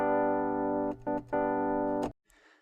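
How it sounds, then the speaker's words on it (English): Sustained vintage electric piano chords with a warm, mellow tone, briefly broken twice before a final chord cuts off, followed by a soft noisy tail. "I'm going to switch this from piano to vintage electric piano"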